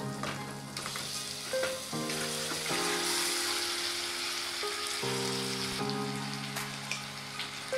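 Marinated chicken fries in a pan for chilli chicken, a loud, dense crackling sizzle like rain on a surface, running continuously alongside a faint tonal hum and occasional stirring.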